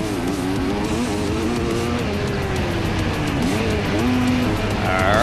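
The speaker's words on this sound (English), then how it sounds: "that's Pierce Brown revving it up around Washougal" A 250 motocross bike revs hard around the slippery dirt of the Washougal track during a pro motocross national race, its engine whine loud and continuous, rising and falling with throttle changes and never dropping out.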